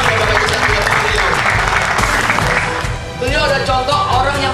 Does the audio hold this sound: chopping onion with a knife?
no